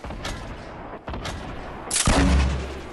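Gunfire in Fortnite Battle Royale with a grenade launcher in play: dense overlapping shots and booms throughout, swelling into a louder, heavier blast burst in the final second.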